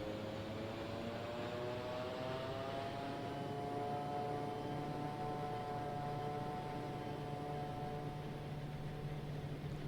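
Pratt & Whitney PT6 turboprop of a Quest Kodiak in the X-Plane 11 flight simulator: a steady, continuous engine drone with a rising whine, holding evenly throughout with no voices.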